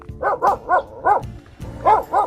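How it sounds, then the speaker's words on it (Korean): Several dogs bark along a coastal walking trail, a burst of four sharp barks, a short pause, then three more, loud and fairly close. "아, 여기는 멍멍이들이 많아. 그러니까 좀 놀래도 좀 참으세요."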